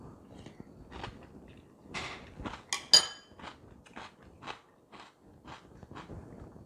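Crisp crunching bites of low-carb keto cereal in a quiet room, a series of separate crackly chews spaced irregularly, close to the listener.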